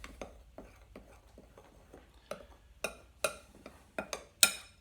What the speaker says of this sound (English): For now, we can stir this up.